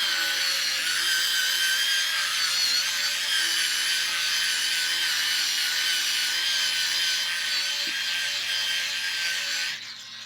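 A blue abrasive pad attachment grinds against a glass window, producing a steady, harsh, bright scraping whir that runs continuously and close up, easing off only at the very end.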